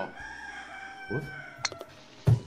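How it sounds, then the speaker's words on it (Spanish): A neighbour's rooster crows once, thin and somewhat distant. A few sharp clicks and a short thump follow in a quiet room with no talking. "Si alguien se pregunta por el gallo, es que tengo un vecino que tiene un gallo."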